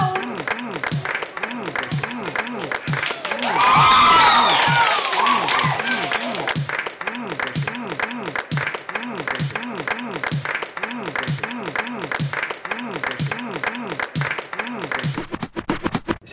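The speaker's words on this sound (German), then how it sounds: "Noch einmal bitte, ja, fetter Applaus!" Loud applause and cheering burst out in a rap podcast studio, peaking briefly near the start, while voices keep talking over and around it.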